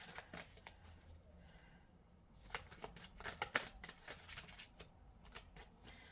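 Soft, irregular riffling and flicking of large cards being shuffled by hand, close and fairly quiet, with scattered taps and slaps.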